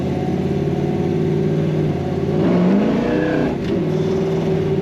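A 1968 Chevrolet Nova coupe accelerates hard with a low, rising engine roar heard from inside, swelling midway as the tires break loose, then settling into a steady drone.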